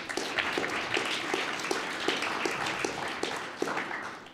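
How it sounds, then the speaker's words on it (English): A seated audience applauds a speaker at the end of a talk on influencers and games: a continuous, fairly loud wash of many hands clapping, with a loose pulsing rhythm throughout and no talk over it. "we should give a big applause to Veera"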